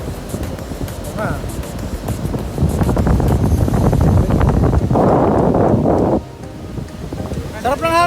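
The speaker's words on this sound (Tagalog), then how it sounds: "Ang lakas ng hangin." Strong gusts on Boracay buffet the microphone in loud, rumbling bursts, with voices talking underneath and the wash of water nearby.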